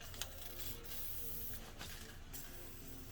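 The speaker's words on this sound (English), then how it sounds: "we're gonna spray this guy right here real good" Cleaner sprays in several short bursts onto the rear brake of a 2003-2007 Honda Accord 3.0L, crisp close hissing with brief pauses between squirts.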